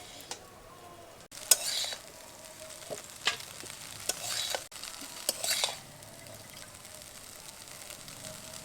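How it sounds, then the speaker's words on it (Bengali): Egg chowmein with vegetables being stirred and tossed in a frying pan, soft sizzling under repeated utensil scrapes and clinks, close and moderate in level, no speech. "এবার খুব ভালোভাবে আবারও মিশিয়ে নেব।"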